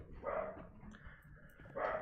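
Puppies bark in a few short yips, one near the start and another at the end, faint and somewhat distant.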